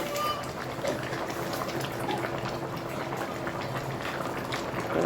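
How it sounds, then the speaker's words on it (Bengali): Curry broth with bottle gourd and hilsa fish bubbles at a steady rolling boil, giving a continuous close hiss and gurgle. "ভালো করে ঝোল ফুটে গেছে।"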